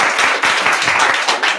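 An improv theatre audience claps to cast a vote, a dense burst of applause that runs for about a second and a half, close and loud, with no talking over it.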